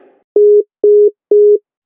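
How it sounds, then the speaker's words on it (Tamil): Three evenly spaced busy-signal beeps sound on a phone call, each a steady mid-pitched tone with short silent gaps between, loud and clean with no voices. "இது என்ன ரிங்கே போகல"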